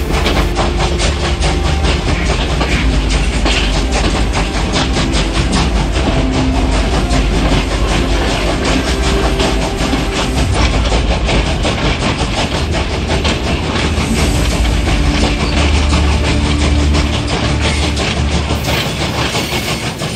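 A train carrying evacuees pulls away from Gubeng station, a loud, steady rolling rumble with a rhythmic wheel clatter running unbroken throughout and no voices.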